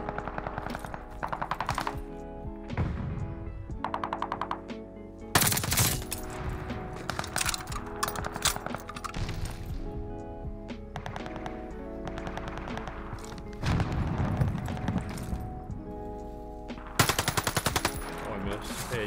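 An MP40 submachine gun fires in Call of Duty Vanguard in rapid, loud bursts of automatic fire. The bursts are separated by brief pauses, with quieter game ambience and occasional distant shots between them.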